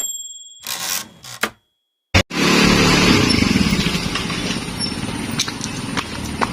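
A motorcycle engine that has stalled and is being restarted: a few short bursts, a sudden cutout into silence, then a loud, steady engine running nearby with a rough, continuous rumble.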